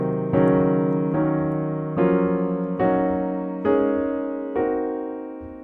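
Half-diminished Locrian scale voiced in locked-hands block chords on piano, six full chords struck one after another in a slow, even climb, each ringing out before the next, with no talking.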